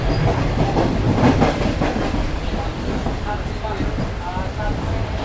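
A Shalimar Express passenger coach rolling along the Bahawalpur to Karachi line gives a loud, steady rumble with rhythmic clickety-clack from the wheels, heard from inside the nearly empty carriage, with someone talking over it.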